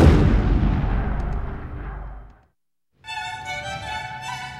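A heavy, rumbling blast of wartime bombs and cannon fire fading out over a couple of seconds, then silence before a new, tonal droning sound starts.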